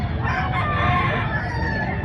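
A rooster crows loudly and close by, one long drawn-out call over a noisy, crowded background at a rooster expo in Mantalongon, Barili, Cebu.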